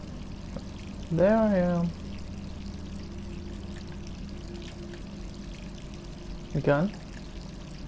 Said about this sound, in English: Yeah, I left the sink running.